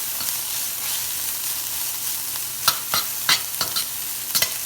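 Onions and spices being sautéed and stirred in a pan for a spicy Sri Lankan-style black chickpea sundal, a steady faint sizzle with a few sharp spoon scrapes and clacks near the end.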